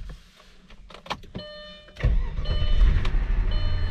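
A 20-year-old Audi S6 engine cranks with a few clicks and whirs, then catches and settles into a loud, steady rumbling idle close by.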